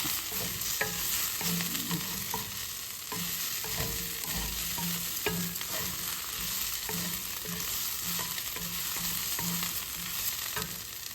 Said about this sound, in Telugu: కొంచెంసేపు ఫ్రై చేస్తే కలుస్తుందండి.